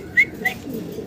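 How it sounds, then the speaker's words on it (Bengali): Young fancy pigeons give two brief, soft coos close by, the second fainter, over quiet background murmur. "এটা নতুন কবুতর"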